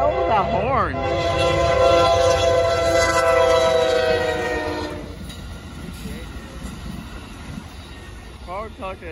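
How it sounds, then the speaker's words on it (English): Southbound Amtrak Texas Eagle passenger train passing at a rural crossing on a Sunday evening: loud horn blasts and rumbling rail cars close by, fading as it moves away, with brief talk. "here comes Amtrak, too."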